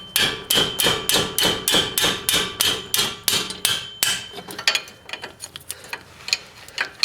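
A hammer strikes a gear wrench on a brake-job bolt of a 1995 Toyota Tercel in a rapid, even series of loud metallic blows, followed by a few slower, lighter taps.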